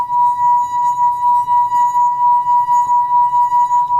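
A wine glass partly filled with water, rubbed around the rim, rings with one pure sustained tone that holds steady and loud for four seconds, with a faint rhythmic rubbing pulse beneath it.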